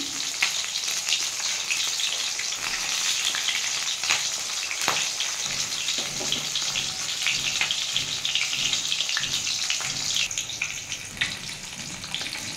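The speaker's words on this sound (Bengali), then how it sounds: "পেঁয়াজটা ভেজেছিলাম, সেই তেলটা দিয়ে আমি ভাজছি।" A fish head fries in oil reused from frying onions, giving a dense, continuous crackling sizzle with occasional sharper pops, close and loud without speech.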